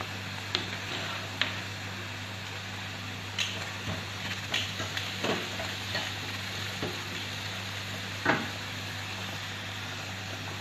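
Ginger sizzles steadily in a hot pan while pasta is being made, a constant close frying hiss broken by scattered light taps and stirring clicks.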